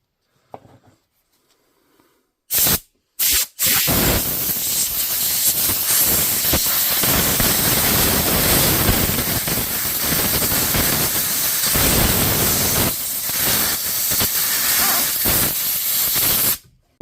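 Brake cleaner hisses from an aerosol can onto the parts of a disassembled Dewalt DCH253 rotary hammer. A couple of short, sharp bursts lead into a long, loud, continuous spray close by, which then cuts off abruptly.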